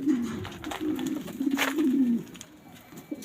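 King pigeons coo in a loft, a close, steady run of low throaty calls with overlapping voices that trail off near the end.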